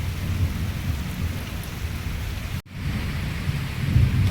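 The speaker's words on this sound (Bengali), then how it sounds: "আর এইমাত্র বৃষ্টিটা শুরু হয়েছে। খুব জোরে হচ্ছে না, আস্তে আস্তে হচ্ছে" A steady monsoon rain falls on open ground near a field, with low rumbles of thunder rolling beneath the constant patter and no voices.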